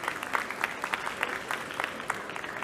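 Audience applause at an HR conference on AI, steady scattered clapping from a modest crowd at a moderate distance, continuous throughout without voices on top.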